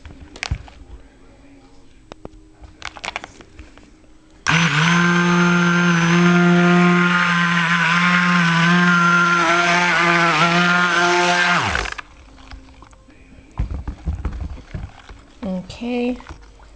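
Stick blender mixing soap batter with titanium dioxide for China Rain soap, a loud steady motor whine of about seven seconds starting and stopping abruptly, with quieter handling noises before and after.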